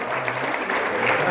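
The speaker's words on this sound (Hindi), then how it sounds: "और जोरदार तालियों के साथ" Brief burst of audience applause at a political party foundation day gathering, a loud, dense patter of many hands clapping that holds steady for a moment.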